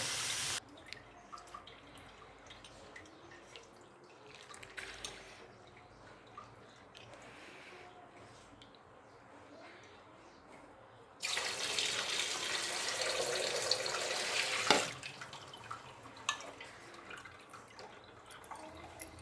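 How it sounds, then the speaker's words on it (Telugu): Faint dripping and trickling at first, then water from a tap gushes steadily into a bowl of soaked lentils for several seconds with a small clunk before easing off. "వీటిని కడుక్కోవాలి. ఒకసారి శుభ్రంగా కడుక్కోవాలి."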